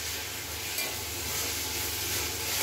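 Tomatoes sizzle in hot oil in a pan while paneer curry is being cooked, a steady close frying hiss with light stirring, no speech.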